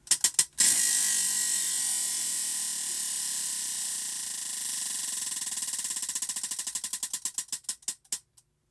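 A random stitch picker wheel is spun, giving a rapid ratcheting whir of clicks that gradually slows into distinct, spaced ticks before stopping.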